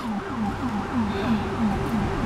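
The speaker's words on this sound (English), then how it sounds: "let me wait for the rude ambulance to go past" An ambulance siren wails in a rapid, repeating up-and-down pattern, steady and fairly loud, with traffic rumble underneath.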